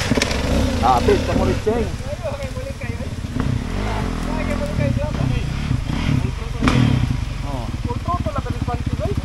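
A motorcycle ridden on a dirt trail, its engine droning steadily under loud conversation between riders, with occasional clatter from the bike.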